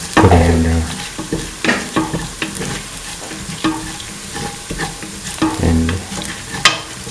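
Ground coriander, fennel and red chillies are stirred in a hot pan, with repeated scraping spatula strokes over a continuous close sizzle.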